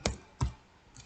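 Two sharp, close keystrokes on a computer keyboard, a third of a second apart, followed by a fainter third tap.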